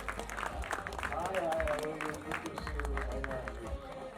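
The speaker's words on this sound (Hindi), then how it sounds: "जोरदार तालियां हो जाए" Audience applause at a wedding-themed event, a scattered burst of clapping mixed with crowd chatter and voices speaking over it, with low rumble underneath.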